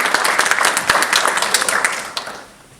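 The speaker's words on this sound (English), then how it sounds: "Let's have a big clap for them" A large audience applauds tenured professors at a university event, a dense patter of many hands clapping steadily at close range before the sound tapers off near the end.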